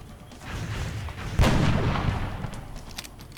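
A single loud gunshot in the video game XCOM booms out in the middle, its rumble trailing off amid a noisy, dull background.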